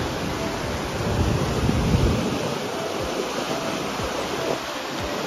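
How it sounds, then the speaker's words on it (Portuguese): Ocean waves break against a rocky shore at a beach, a continuous rushing surf with surges and wind buffeting the microphone. "Olha que barulho gostoso da onda."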